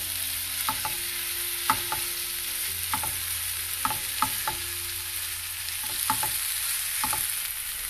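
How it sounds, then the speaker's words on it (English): Tomatoes frying in a pan for a dhaba-style green peas pepper masala, with a steady sizzle and repeated clinks and scrapes of a spoon stirring at an uneven rhythm, close and clear, without talk. "Now let's add tomatoes and cook this until the tomatoes become mushy and get cooked completely."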